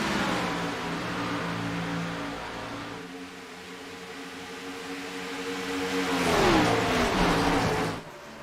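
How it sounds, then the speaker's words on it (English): Race car engines in a simulated Winston-era stock car race at Charlotte roar and whine at high revs around 14,000 rpm, the pitch dropping then rising again as cars pass, loud and continuous. "These cars are loud and proud."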